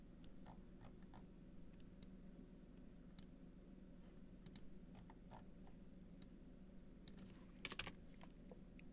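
Keys click on a computer keyboard in a quiet room, light irregular taps spread through a low steady hum with a brief flurry near the end.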